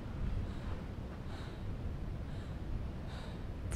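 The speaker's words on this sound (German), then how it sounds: "Sie ist echt am Keuchen" A woman panting in the video game Lifeless Planet: steady, rhythmic breaths with faint gasps, close and moderately loud over a constant low ambient rumble, with no talking.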